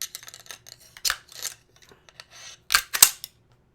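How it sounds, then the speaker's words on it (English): Sharp metallic clicks and clacks of a rifle bolt being worked and locked to the rear, a few loud snaps among smaller handling rattles, close up. "So I have to lock the bolt to the rear."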